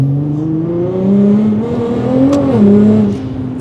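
A Nissan GT-R with a big turbo rumbles in a deep, cavernous tone, its engine note rising and falling through two gentle revs, loud and near, with no speech over it.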